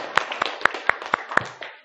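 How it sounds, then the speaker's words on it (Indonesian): A small classroom group claps for a presenting student group, about eight sharp, evenly spaced hand claps in a quick rhythm that trail off at the end. "Tepuk tangan dulu."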